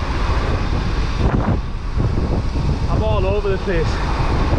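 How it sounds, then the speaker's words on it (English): A strong 50-mph crosswind roars steadily against a cyclist on a bike-packing ride through Tunisia, a constant heavy rush of buffeting wind noise. Someone speaks briefly over it. "I've got like a 50-mile-an-hour crosswind that's absolutely blowing me away"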